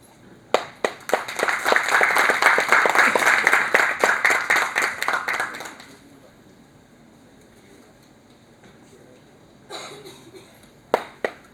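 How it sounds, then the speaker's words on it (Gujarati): Audience applause for a program sponsor at a textile week event, a burst of many hands clapping for about six seconds that fades out, followed by a few scattered claps. "એમને પણ તાળીઓથી વધાવવા"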